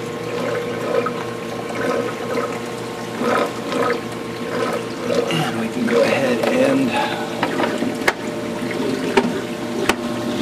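Water splashes steadily into a large aquarium sump below a 400-gallon bowfront tank, a continuous close wash of trickling and splashing over a low pump hum.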